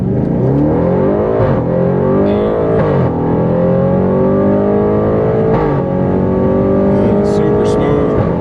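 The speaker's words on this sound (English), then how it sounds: "with the windows down, you can hear those turbos spool up." An Audi RS7 with a loud valved exhaust accelerates hard, heard from inside with the windows down. The engine tone climbs steadily through several gear changes while the turbos spool, and a voice speaks briefly over it.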